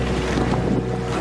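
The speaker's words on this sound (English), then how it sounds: "This area right here was like a crazy wind tunnel. It felt like 100 mile per hour gusts." Strong wind gusts roar continuously during Hurricane Sandy near flooded waterfront, a loud, dense rush buffeting the microphone.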